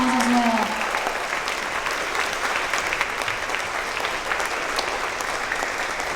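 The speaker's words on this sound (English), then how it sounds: "Let's give our WCS Online students a round of applause as well." Audience applause at a second grade promotion ceremony, a steady wash of many hands clapping that holds at an even level throughout, with a brief voice at the very start.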